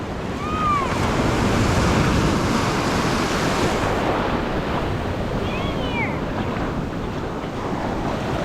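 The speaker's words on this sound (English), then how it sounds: "Those waves will get you, Isis." Ocean surf on the beach at Gulf Shores, Alabama, washes as a loud, constant roar mixed with heavy wind buffeting the microphone, with faint distant bird calls or squeals on top.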